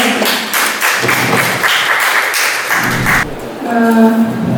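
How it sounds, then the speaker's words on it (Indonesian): Classroom of students clapping their hands together in a loud, dense burst of applause lasting a few seconds, then fading into a brief ringing tone. "Tepuk tangan semangatnya mana?"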